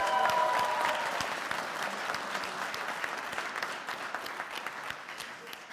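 Audience applause at a local Zeewolde political debate greeting a D66 lead candidate, a dense steady clapping crowd close by that slowly thins toward the end, with no talking.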